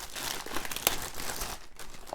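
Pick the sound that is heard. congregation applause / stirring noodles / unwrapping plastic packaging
unwrapping plastic packaging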